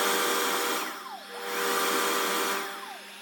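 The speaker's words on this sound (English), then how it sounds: "About to start to empty the dust bin." A loud, steady whirring suction roar from a Yeedi C12 robot vacuum's docking station, with pitch sweeping up and down as it empties the bin.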